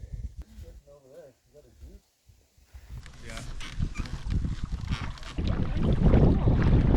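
Wind gusting on a canoe trip along the French River, a faint breathy rush that swells into loud, rough blustering against the microphone, with people talking briefly at the start.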